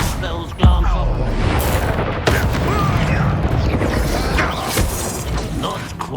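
Combat in Hogwarts Legacy with a Confringo blasting spell: a sharp, loud blast near the start followed by dense mechanical clatter and further impacts, with game voices calling out over the din.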